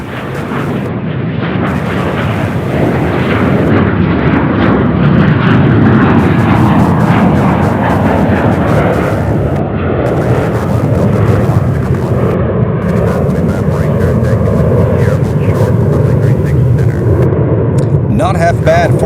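Jet airliner taking off from runway 36 right at Charlotte Douglas International Airport, a loud, sustained roar that builds and holds for the whole stretch, with a voice talking over it at times.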